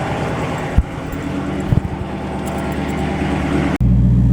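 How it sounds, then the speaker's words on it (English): A Dodge Charger Scatpack's exhaust rumbles loudly and steadily from inside the car, a deep droning vibration with a few dull thumps and a brief dropout near the end. "Damn, the car vibrating from the exhaust."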